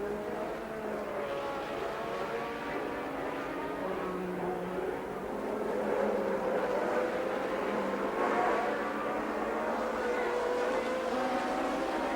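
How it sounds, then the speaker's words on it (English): Turbo and Cosworth-engined 1982 Formula 1 cars restart a race at sea level, engines droning and wailing together in a sustained, slightly rising pack howl at a distance, with narration over it. "After the restart, an hour later, Prost and Rosberg were away again"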